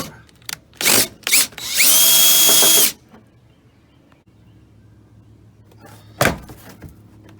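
A power drill spins a screw out of a Silverado headlight area: a couple of short whirring bursts followed by a longer steady run, close and loud, then a quiet pause and one more brief burst.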